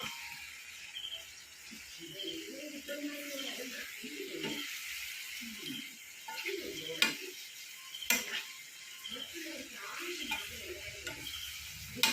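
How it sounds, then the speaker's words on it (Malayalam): Prawn and coconut curry stirred in a pan, with a steady sizzle beneath irregular scraping and clinking strokes of the spoon, plus a few sharper knocks against the pan. "എല്ലാം കൂടെ യോജിപ്പിക്കുക"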